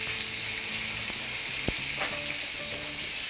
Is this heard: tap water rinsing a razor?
no